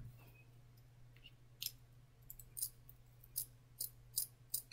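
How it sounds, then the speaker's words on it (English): Regular sharp scissors snip through wig hair in a handful of short, crisp cuts spaced irregularly over a low steady hum, faint and close. "These are just regular scissors that I use for everything, just as long as they're sharp enough."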